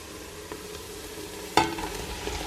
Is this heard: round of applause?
no